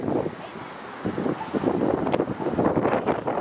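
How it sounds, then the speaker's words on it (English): Sudden rain falls on Yonge Street in Midtown Toronto, making a continuous rushing hiss with gusty swells, as if the microphone is exposed to the weather. "Is it just raining out of like freaking nowhere?"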